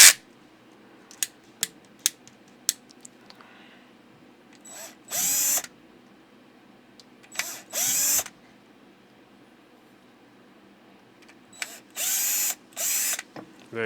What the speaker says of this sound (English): We change the drill bit, go to a bigger one to enlarge these holes.